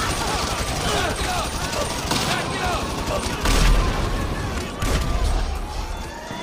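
Rapid bursts of gunfire and booming shots ring out at a US army base in GTA 5, a dense continuous barrage with heavier thuds in the second half and a voice talking over it.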